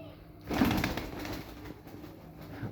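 A pigeon on a farm of fancy breeds gives a soft, low cooing call, close by and fairly quiet, with a faint murmur of background noise.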